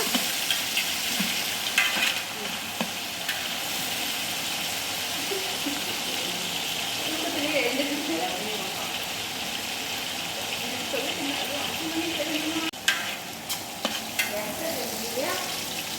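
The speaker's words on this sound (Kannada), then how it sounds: "ಪುದೀನಾನು ಎಣ್ಣೆನಲ್ಲಿ ಒದಗ್ತಾ ಇದೆ" Mint and onions fry in oil in a large batch for ghee rice meant for 40 people, making a constant loud sizzle with occasional stirring scrapes and clatter.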